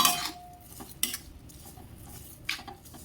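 A utensil scrapes and clinks against a pan while grated ginger filling is mixed, a few sharp metallic strokes spaced apart over a quiet background.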